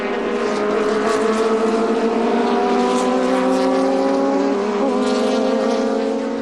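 A Chevron B16 sports racer, car number 18, runs at the Monterey Historics in 2005, its engine a steady, loud, continuous roar with strong harmonic whine that holds throughout, slightly shifting pitch as it passes.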